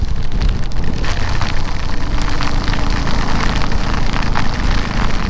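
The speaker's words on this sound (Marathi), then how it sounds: "क्रेझी पाऊस आहे" Heavy monsoon downpour during a motorbike ride to Tamhini Ghat under a red alert, a dense, steady roar of rain hitting surfaces, loud and close throughout with no break.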